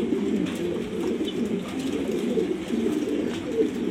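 A steady, continuous chorus of pigeons cooing close by, layered low burbling calls running throughout with no pause.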